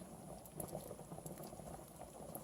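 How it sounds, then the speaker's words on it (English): Pork cacciatore juices simmer in a pan with a steady bubbling, boiling patter that holds close and even throughout, with no talk over it. "get some of those juices all over it, because I want them to simmer."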